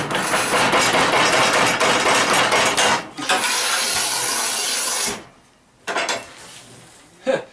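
A Battipav PROFI EVO ALU manual tile cutter scores a hard-enameled glazed tile with long gritty scraping passes. The breaker then snaps it with a pause and a couple of sharp cracks near the end.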